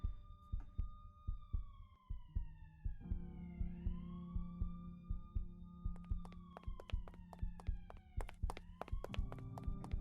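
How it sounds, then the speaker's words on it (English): A police siren sound effect wails up and down in smooth sweeping tones over a steady, thumping heartbeat pulse. It is moderately loud and continuous, with a second siren layering in partway through. "I can hear the sirens now, closer than they were."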